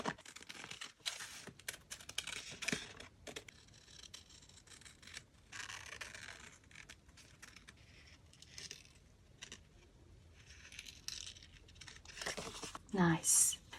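Scissors cutting glued napkin paper at a craft table: a quiet run of small snips and paper rustles, close and soft, with a voice talking intermittently over the work.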